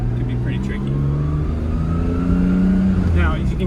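A Mazda Miata engine idling quietly with its exhaust valve closed, a steady low hum that holds level throughout while someone talks over it.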